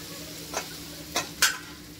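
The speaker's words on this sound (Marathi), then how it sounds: "कांद्याला मस्त ब्राऊन कलर होऊ देऊया, तोपर्यंत भाजूया" Onions fry in a pan for dal tadka under a low, steady sizzle, with three short scraping stirs of a spatula standing out near the middle of the clip.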